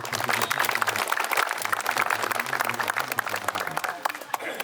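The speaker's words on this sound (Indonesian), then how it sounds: "Ya, tepuk tangan untuk kita semua." A group applauding together at an indoor staff training session, brisk clapping of moderate loudness running throughout, with voices and a low hum underneath.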